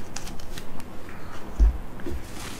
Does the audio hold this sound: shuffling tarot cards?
yes